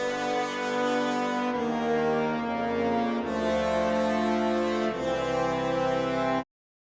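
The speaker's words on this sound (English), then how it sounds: "Altogether, the brass section sounds like this." An orchestral brass section of tubas, trombones, trumpets and horns sounds a series of loud, sustained chords alone, with rich low harmony shifting a few times before cutting off abruptly.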